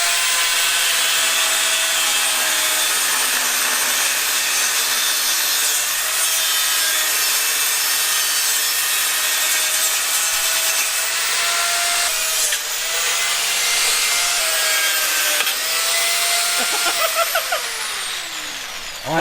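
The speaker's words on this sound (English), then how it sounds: "Martin's getting his grinder out because that's what we do to get valves off wheels." An angle grinder cuts a tire valve off a Maserati Quattroporte wheel in a loud, continuous rough grinding roar with a shifting pitch, ending in a few bumps and scrapes.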